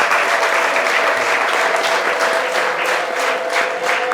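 Loud, dense applause from a church congregation, continuous rhythmic clapping from many hands close by, filling the whole moment without talk.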